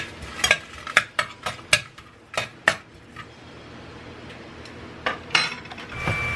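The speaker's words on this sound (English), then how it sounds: "I'm gonna go ahead and throw those in, and I'm just gonna saute those for a minute" Dried chiles de árbol are stirred in a pan for a breakfast dish, with a run of sharp utensil clinks and scrapes against the metal, loud and close, then a stretch of quieter sizzling before a few more knocks.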